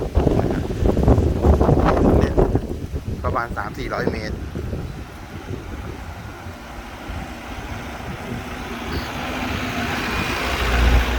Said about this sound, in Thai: โอ้โหลมเย็นมาก ลมพัดมากนะครับ